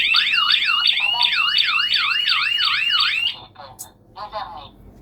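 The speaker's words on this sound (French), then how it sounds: "l'alarme va se déclencher automatiquement" A Tuya home security alarm wails loudly in repeated rising-and-falling electronic sweeps for about three seconds, then cuts off, leaving faint chirps and a voice talking nearby.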